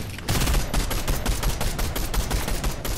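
Sniper gunfire in the Fortnite Reload video game, a dense run of loud shots and impacts in a busy, continuous stretch of battle noise with no talk.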